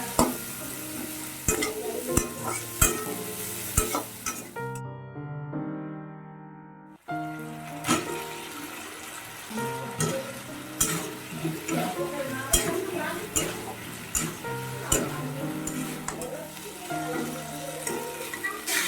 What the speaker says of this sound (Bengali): এখন আমি ডিমের ঝোলটা বসাচ্ছি